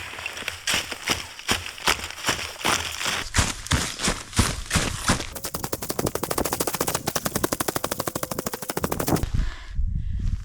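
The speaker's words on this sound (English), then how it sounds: "I'm gonna stomp with my snowshoes again" Snowshoes stomping through snow at a winter campsite in a -20 snowstorm, a fast run of close, crunching impacts repeating in a steady rhythm that quickens in the second half and then stops abruptly.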